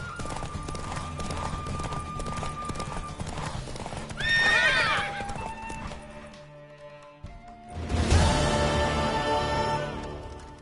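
A horse in the video game The Witcher 3 gallops with steady, close hoofbeats, then gives a loud whinny around the middle and another near the end.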